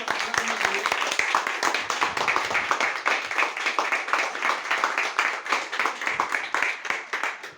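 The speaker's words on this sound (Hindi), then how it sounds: "तो एक बार जोरदार तालियों से मैं चाहूँगा गुरुजी का स्वागत करना चाहिए।" A crowd at a product meeting breaks into sustained, dense applause to welcome a guest, with many hands clapping loudly and evenly throughout and a few voices mixed in.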